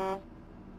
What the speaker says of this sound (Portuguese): Então a buzina dos caminhões tem um novo som, igual a buzina desse caminhão aqui